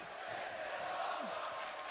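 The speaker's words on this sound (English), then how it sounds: "This is awesome by the crowd." A wrestling crowd at a live match chants in a steady, rhythmic roar. The voices blend into a distant, faint wash of many people.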